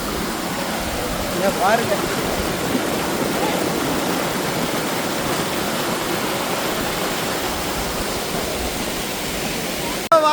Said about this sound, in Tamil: வாட்டர் ஃபால் பாருங்க, தண்ணி வந்துட்டு அவ்வளோ ஃபோர்ஸாக வந்துட்டு இருக்கு